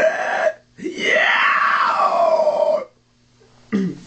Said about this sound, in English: to start with the inhale growl, just start with taking a big inhale